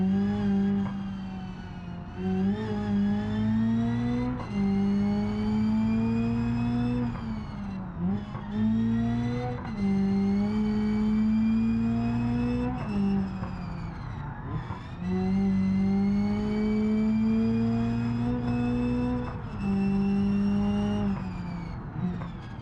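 A damaged car engine in BeamNG.drive on the Nürburgring revs up and down repeatedly with a rough, strained drone, pitch climbing and dropping in cycles, loud and continuous without speech.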